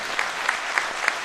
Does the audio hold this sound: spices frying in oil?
no